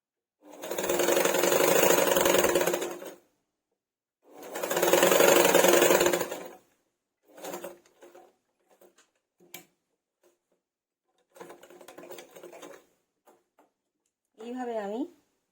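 A sewing machine stitches black cloth onto a bolster pillow cover made from old fabric in two long, loud runs of about two seconds each, then quieter short bursts and clicks, closing with a brief voice.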